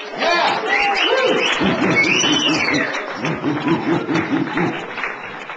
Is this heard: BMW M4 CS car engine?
no